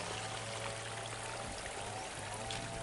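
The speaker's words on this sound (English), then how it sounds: "that there's water coming into this pond" Water flows steadily into a pond at night, a continuous soft rushing trickle with no talk over it.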